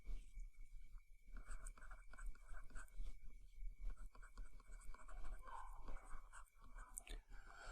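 A pen or marker writes out an equation on a board in a quiet room, with soft, irregular scratching strokes close by under a steady background hum.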